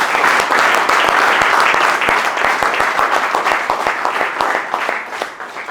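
A church congregation applauding the Lord, with loud, sustained clapping from many hands and steady rhythmic claps standing out, fading slightly near the end.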